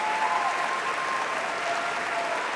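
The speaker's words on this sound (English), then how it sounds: "Let's give our outstanding McAllen ISD principals a round of applause." An audience at the McAllen ISD Fourth Grade Choral Festival applauds the district's school principals, a steady, even patter of many hands clapping, moderately distant and unbroken, with a faint thin tone hovering above.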